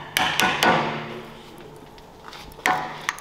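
Sharp metal hammer blows on the edge of the old wheel bearing cap of a BMW E46 front axle, loosening it: three quick strikes, a pause, then two more, close and fairly loud with ringing decay.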